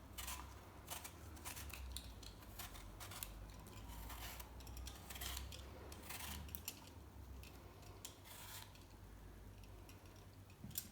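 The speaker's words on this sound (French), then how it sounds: "on va peler les 4 pommes avant de les couper en quartiers" Four apples are peeled with a vegetable peeler, giving faint, close scraping strokes that repeat in short bursts at an uneven pace, with nobody talking.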